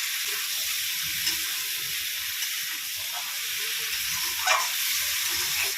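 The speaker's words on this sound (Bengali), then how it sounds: "এবার আমি ঝিঙেটা দিয়ে একটু কষিয়ে নেব" Ridge gourd sautés in a pan with spice paste, giving a steady, close, hissing sizzle that stays even throughout, with a faint clink or two and no talk.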